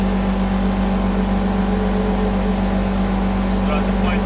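A Polaris General XP side-by-side on 32-inch tires with Gilomen clutching and tuning drones at a steady engine pitch throughout, loud and close inside the cab, with no clear revving changes.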